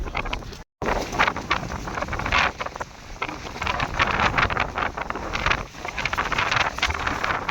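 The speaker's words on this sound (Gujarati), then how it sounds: "ખતરનાક પવન છે અત્યારે." Strong wind on a rainy Girnar mountain trek, a loud continuous buffeting roar battering the microphone, gusting in uneven surges with one brief dropout near the start.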